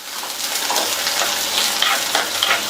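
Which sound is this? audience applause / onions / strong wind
onions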